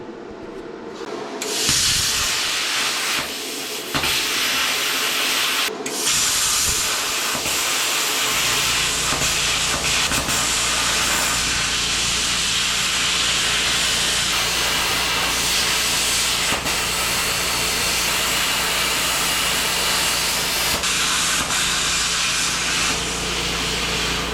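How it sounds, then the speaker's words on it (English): Plasma cutter slicing through metal on an FJ40 Land Cruiser during a power steering install, a loud continuous hissing roar that starts after a couple of brief bursts and holds steady to the end, with no talking. "let's see if the plasma cutter will help with this"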